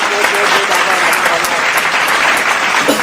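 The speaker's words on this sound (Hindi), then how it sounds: "रोहित वर्मा के लिए ताली बता दिया जाए" Studio audience applause for the winning contestant on a comedy spoof of a quiz show, a dense, steady wash of clapping held at one level throughout, with voices mixed in.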